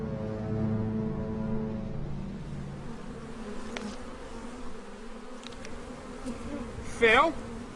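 Honey bees buzzing around a beehive, a steady close insect drone with individual bees flitting past, one passing loudly near the end.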